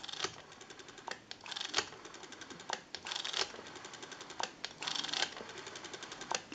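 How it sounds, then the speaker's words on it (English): Rotary dial on a Kellogg candlestick telephone spins back, giving quiet, rapid clicking bursts separated by short pauses, close up and with no talking. "We have a nice smooth return on our rotary dial now."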